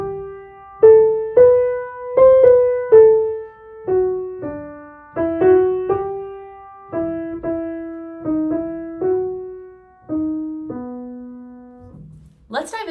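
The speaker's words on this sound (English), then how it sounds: "We're going to look at Greensleeves, also known around the holiday season as What Child Is This?" The Greensleeves melody, also known as What Child Is This?, played as a slow line of about seventeen distinct notes, each struck and then decaying, clear and close.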